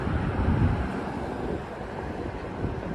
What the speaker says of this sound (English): it is very windy out, and I did not bring a microphone